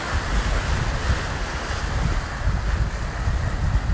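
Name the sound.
ocean waves surf breaking, windy Key West beach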